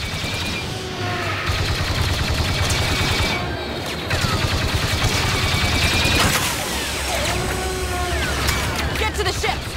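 Dense, continuous blaster and gunfire rattles through a Star Wars Battlefront II battle on Jakku, with sharp bursts and whistling shots layered under raised combat voices across the full span.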